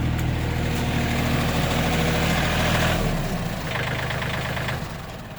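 A Case 580K backhoe diesel engine idles steadily after a cold start on a chilly morning, a loud, continuous low rumble with a slight knock that eases off near the end.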